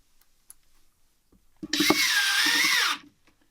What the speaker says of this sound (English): And we're going to just be screwing the floor down